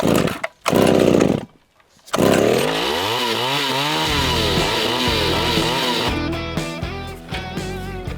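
A vintage Pioneer P26 chainsaw roars loudly and close, cutting out briefly before restarting, then runs on with a rough, uneven idle that surges and wavers.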